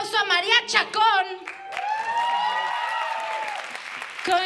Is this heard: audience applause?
yes